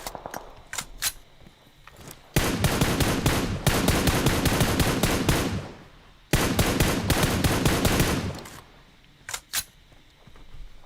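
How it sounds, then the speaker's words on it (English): Tap-fired M4 rifle in PUBG Mobile: two long runs of rapid, loud, crisp shots, with scattered single shots before and after. "Your mom tap firing that M4, getting a couple shots onto the Fierce as they pushed up"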